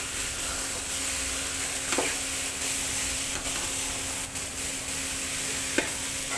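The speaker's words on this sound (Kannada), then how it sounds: "ಬೇಯಿಸಿರೋ ಅಂಥದ್ದನ್ನು ನೀರನ್ನ ಸಪ್ರೇಟ್ ಮಾಡಿ ಉಸ್ಲಿನ ಮಾತ್ರ ಬಾಣಲಿಗೆ ಹಾಕ್ಕೊಂಡು ಅದ್ರ ಜೊತೆಗೆ ಮಿಕ್ಸ್" Boiled chickpeas being stirred in a pan for a Ganapathi prasada usli, giving a steady low sizzle with a few faint scraping clicks, without talk.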